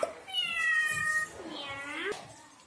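Two drawn-out cat meows, close and clear, the first long and level, the second rising and falling.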